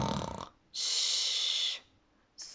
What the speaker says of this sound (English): Snoring like a horse